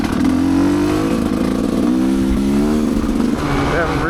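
A Rieju motorcycle engine on a fast ORV trail, droning loud and steady with shifting revs, while a person talks over the engine noise.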